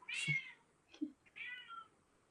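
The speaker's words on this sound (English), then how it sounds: "You might hear my little cat in the background. She's now meowing in the other room." A cat meows three times from another room with short pauses between, soft and slightly distant, in an otherwise quiet room.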